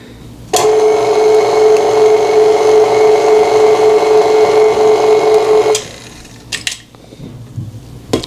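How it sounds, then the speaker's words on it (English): An electric hand mixer whirs steadily through caramel apple cheesecake batter, a loud, even motor whine that runs for about five seconds before it cuts off, followed by a few light clinks. "I'm not going to mix this with the mixer too long because I don't want to break it up too much"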